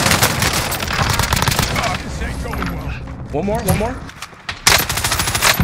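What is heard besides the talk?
gunfire outside in a shooter video game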